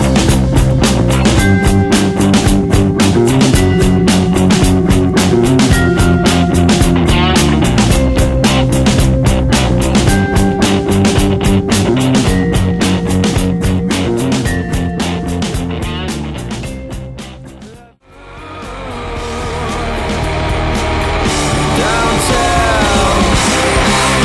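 A loud, dense dark pop rock recording from the album Rated R plays with driving drums and guitars, cuts to a brief near-silent break, and then builds back up to full volume.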